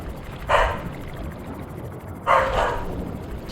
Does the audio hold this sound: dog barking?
yes